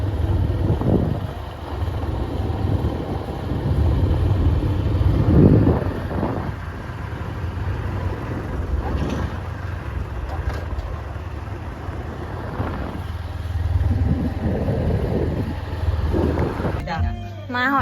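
A boat's engine drones steadily while the boat travels, mixed with gusty wind buffeting the microphone and a low rumble that swells and fades over the ride.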